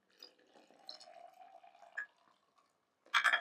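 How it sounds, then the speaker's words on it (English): A cup of water is poured into flour in a container, making faint, soft trickling and dripping sounds, followed by a brief, louder splash near the end. "And you're going to add your cup of water."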